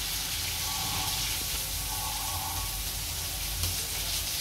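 Ingredients for pumpkin kofta curry sauté in a hot pan with a steady, close sizzle and faint crackle, and no one speaks.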